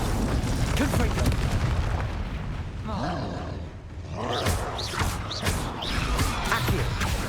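Confringo fire-spell blasts in the Hogwarts Legacy video game, a loud stretch of booming, crackling explosions with a brief dip in the middle, mixed with game voices and combat sounds.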